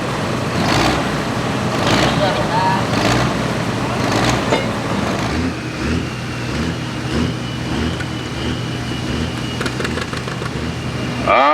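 A Cummins diesel engine fitted in an Oliver pulling tractor roars loud and sustained at a 2024 tractor pulling event, while an announcer talks over the engine noise throughout.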